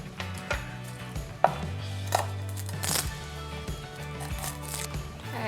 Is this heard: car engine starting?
no